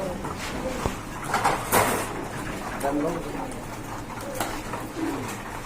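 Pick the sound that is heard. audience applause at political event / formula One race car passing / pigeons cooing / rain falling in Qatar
pigeons cooing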